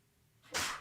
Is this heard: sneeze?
yes